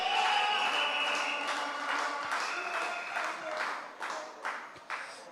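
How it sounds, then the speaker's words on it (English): Applause from a crowd gathered at an evening community event at Chantimelle RC School, clapping mixed with lingering tones and fading into scattered claps with a few louder taps. "Give them a round of applause"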